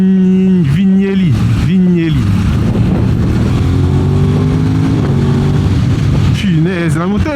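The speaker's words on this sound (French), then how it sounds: "Punaise, la moto elle pète." Motorcycle engine (A2-licence bike) revving loudly from the rider's position on a ride through countryside near Paris, repeated rising and falling throttle blips at the start and end around a sustained steady engine tone, with wind rumble.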